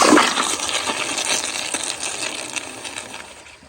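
A 1999 Kohler Highcrest toilet flushing, a loud close rush of water that swirls and gushes, then slowly fades over several seconds.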